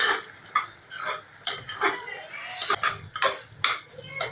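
Chicken chops being stirred with chicken 65 masala in a pan, a spoon scraping and clinking against the metal in quick, irregular strokes, close and fairly loud.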